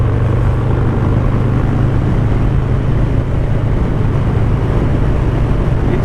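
A Harley-Davidson M8 Low Rider motorcycle rides under load, its low engine rumble and wind roar holding loud and constant throughout, with no pauses or gear breaks.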